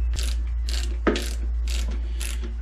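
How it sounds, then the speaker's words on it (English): Torque wrench ratcheting on the tank bolts of a Suzuki SV1000 motorcycle during a fuel tank swap: four or five clicking ratchet bursts in a steady rhythm, close up, over a constant low hum. "and then grab a torque wrench."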